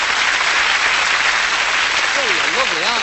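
Dense, steady clapping from a crowd continues throughout, with a short wavering whistle-like tone rising over it near the end.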